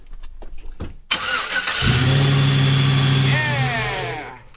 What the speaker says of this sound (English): Somebody go twist that key. let's do some of that cranky crank.